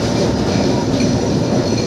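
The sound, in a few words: Kolkata tram running on rails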